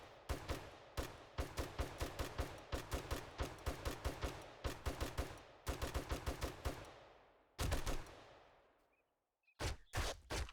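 Gunfire in the video game 7 Days to Die, loud rapid bursts of automatic shots in quick rhythmic strings, pausing between volleys and ending with a few final shots.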